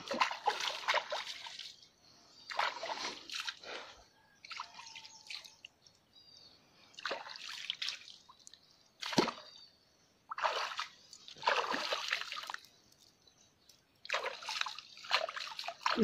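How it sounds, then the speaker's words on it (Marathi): Feet being washed in seawater at the shore while searching for big clams, heard as repeated bursts of splashing and sloshing water separated by short quiet gaps, close up with no talking. "2 मिनटं मी जरा पाय धुवून घेतो."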